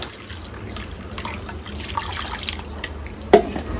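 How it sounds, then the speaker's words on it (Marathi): Tiny live shrimp (kolim), freshly caught from a creek, being washed in water, with soft continuous sloshing and dripping and one brief louder splash near the end. "धुवून घेता येतो कोलिम."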